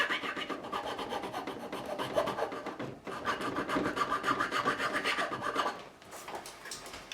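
A file rasps across the grain of the fretboard on a 1973 Gibson Les Paul Custom with a severely twisted neck, in steady repeated strokes, close and fairly loud, with no talking.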